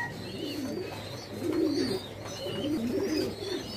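Pouter pigeons, including red Pomeranian pouters, cooing in a fancy pigeon loft on a farm, with low rolling coos rising and falling in repeated bouts, fairly close, with other birds chirping faintly in the background and no talk.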